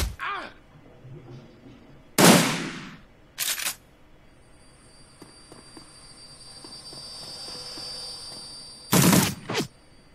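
Brief bursts of gunfire in the video game Shadowrun Returns, two loud sharp volleys near the start and another near the end, separated by quieter game ambience and a high electronic tone.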